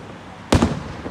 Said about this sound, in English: I really love those fireworks.